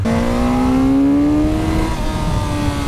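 A Suzuki GSX-S1000 motorcycle pulls hard in first gear, its engine note climbing steadily in pitch, loud and close with continuous wind rush throughout.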